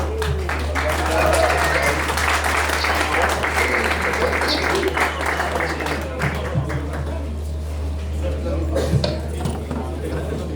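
Church congregation gathered for a discipleship training applauds to welcome a pastor, with steady mid-level clapping under a low hum and some voices.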